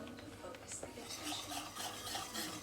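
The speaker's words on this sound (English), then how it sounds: "we're just gonna start whisking like crazy." Arrowroot powder and baking soda whisked vigorously in a pot for homemade natural deodorant, a steady close scraping and rasping stir with light metallic clinks throughout.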